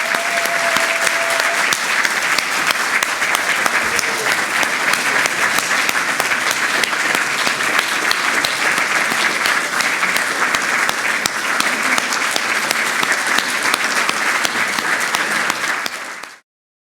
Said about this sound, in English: The biggest round of applause for John Bercow!